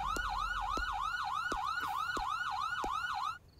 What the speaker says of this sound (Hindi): देखो एम्बुलेंस आई है।